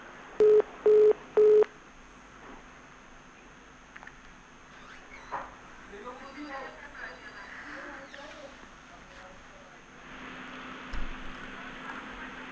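Three short, loud telephone tones sound at the start of a dropped call being reconnected, followed by a faint steady line hum with quiet voices and some rustling.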